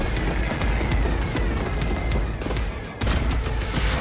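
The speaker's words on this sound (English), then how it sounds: "They're shooting at us!" Dense gunfire in Wolfenstein 2: The New Colossus as enemies shoot at the player, a loud continuous barrage of overlapping shots and booms that briefly dips before resuming at full force.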